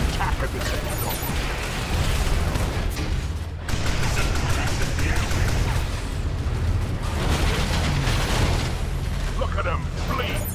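Booming cannon fire and explosions from the Transformers: Revenge of the Fallen video game cutscene, with rubble cannons opening fire on a target, a dense continuous barrage of blasts layered with mechanical clatter and voices talking over it.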